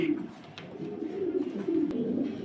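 Pigeons cooing softly at a pigeon farm, low repeated coos overlapping at close range with faint background noise.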